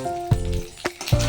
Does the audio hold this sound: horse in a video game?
no